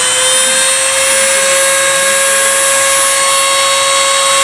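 A high-pitched rotary power tool carving wood on a bonsai whines continuously at a steady speed, loud and close, with no talking.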